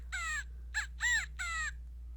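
A California quail gives four clear, nasal calls in quick succession, with a short pause after the first, sounding close and distinct over a low steady hum.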